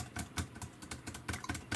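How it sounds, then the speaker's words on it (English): Fingers tap quickly on an LED wireless Bluetooth keyboard, a close run of light, uneven clicking keystrokes with no voices. "you see I'm actually typing"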